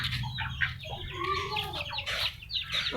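Chickens cluck and chatter close by with a duck among them, several birds overlapping in busy, uneven bursts with a soft low rumble underneath.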